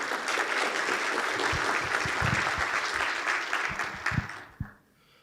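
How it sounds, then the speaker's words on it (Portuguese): An audience at a congress opening bursts into sustained applause, a dense, steady clapping that holds for several seconds before thinning out into a few last claps and then quiet. "uma salva de palmas"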